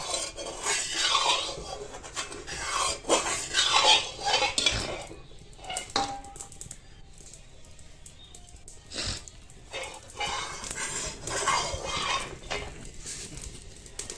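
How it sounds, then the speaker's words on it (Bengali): A spoon scrapes and clinks around a metal pot while stirring milk on the stove, irregular close scraping strokes that come and go steadily, with no talk. "দুধটাকে ঘন ঘন একটু নাড়তে হবে, না নাড়লে তলায় লেগে যাবে।"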